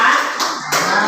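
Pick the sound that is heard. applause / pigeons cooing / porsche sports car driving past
applause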